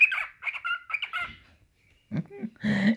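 Close, chirpy warbling bursts from a cockatiel, then a short silence before lower, throatier sounds close out the moment.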